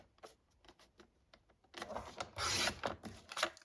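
A paper trimmer slices through two card strips at once in a card-making craft setting, starting with soft scattered taps and rubs, then a louder, longer scraping cut, all quiet and close with no talk.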